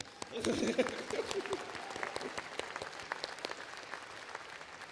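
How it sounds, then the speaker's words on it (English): An audience at a spring law school graduation ceremony breaks into applause, a burst of clapping that thins into scattered claps, fairly faint and distant. "We need to clap for that one, y'all."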